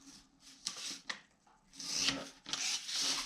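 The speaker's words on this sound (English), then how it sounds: "Then I can take my finger blade and I'm just going to do a miter." Finger blade cutting a miter in folded paper, quiet close scratchy rubbing strokes in short bursts.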